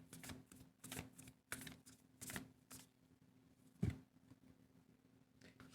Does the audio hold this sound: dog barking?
no